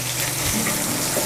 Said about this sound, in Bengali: দেখেন ভাই আমি কি সুন্দর ডিম ভাজতাছি ভাই